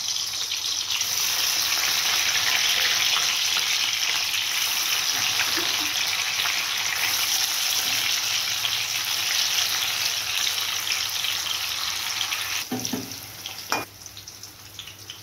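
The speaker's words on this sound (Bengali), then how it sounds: "ঘি গরম হয়ে গেছে, এবার দিয়ে দেব পনির।" Paneer fries in hot ghee in a pan with a steady, loud, dense sizzle that runs throughout. A few clinks and scrapes come near the end.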